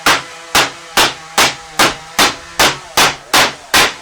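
Hammering small nails into a wooden money storage box, nine evenly spaced sharp strikes close up, each ringing briefly before the next, with no talk.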